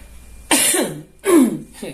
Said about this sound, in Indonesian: Izin batuk dulu.